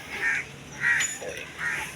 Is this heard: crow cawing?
yes